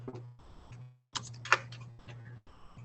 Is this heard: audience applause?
no